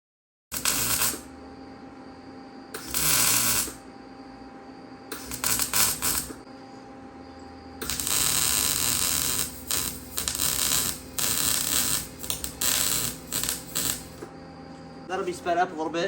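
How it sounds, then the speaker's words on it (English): Welding on a custom exhaust for a Can-Am X3 comes in repeated loud bursts of harsh crackling arc noise, each lasting about a second or several seconds, separated by quiet gaps with a faint electrical hum. "I am going to put my helmet on, finish welding this thing up, and then I'll weld the ends on it"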